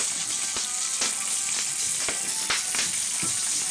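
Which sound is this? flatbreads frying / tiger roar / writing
flatbreads frying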